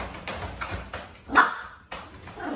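A dog growls and barks at a new puppy indoors, with several short, close barks and yips spread over a couple of seconds and a brief pause near the end.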